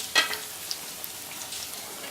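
Potato bondas frying in hot oil, giving a steady, fairly quiet hiss and sizzle with a few sharper crackles and pops near the start.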